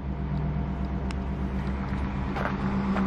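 Low steady engine rumble of a vehicle towing an Airstream RV trailer out at a Cape Cod campground, continuous and fairly close, with faint light clatter above it.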